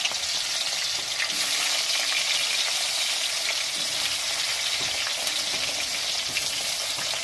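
Onions hit hot oil in a mutton curry pan and fry with a continuous loud sizzle, steady and close, with occasional stirring scrapes.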